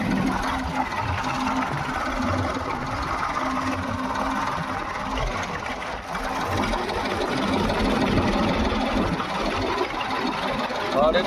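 A tractor engine idles steadily on a farm during pearl millet work, giving a continuous, even mechanical drone with a faint rhythmic chatter and no clear pauses.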